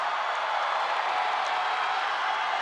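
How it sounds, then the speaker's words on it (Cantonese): A large audience at a Hong Kong talent show final cheers and screams in a steady, dense roar that fills the hall without a break. "相信佢哋9位都會非常享受你哋嘅歡呼聲同埋尖叫聲㗎啦。"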